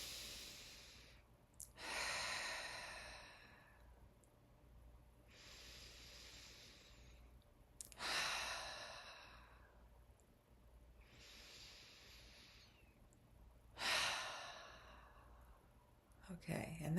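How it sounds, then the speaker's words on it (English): Three slow, deep breaths taken during a guided relaxation exercise, each a soft airy inhale or exhale spaced several seconds apart, close and quiet over a faint steady hum. "if you will just take 3 deep breaths,"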